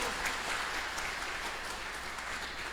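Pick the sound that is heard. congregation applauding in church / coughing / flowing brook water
congregation applauding in church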